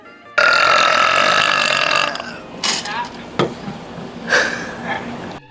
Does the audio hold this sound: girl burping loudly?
yes